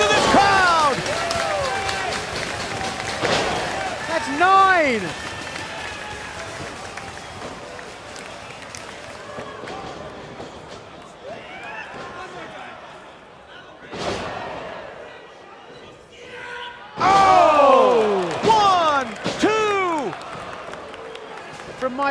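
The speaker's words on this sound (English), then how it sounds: "Listen to this crowd." A wrestling crowd at a Ring of Honor Final Battle event cheers and roars in loud swells, rising in bursts near the end, while a commentator talks over the noise.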